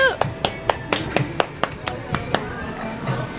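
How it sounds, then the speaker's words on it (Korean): A small group in a Fukuoka home clapping together for a friend, about ten crisp, evenly spaced claps close to the mic, with voices chattering underneath. "미연 박수!"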